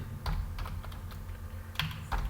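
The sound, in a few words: typing an SQL query on a computer keyboard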